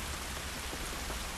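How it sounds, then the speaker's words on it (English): Rain falls outdoors in the video game The Last of Us Part 2, a dense, steady patter of drops hitting surfaces that holds at a constant level for the whole brief moment, with no voices. "It's raining."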